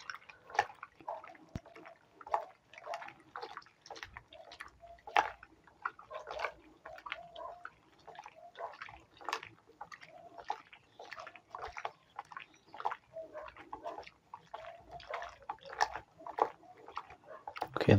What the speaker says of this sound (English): and I'm going to stir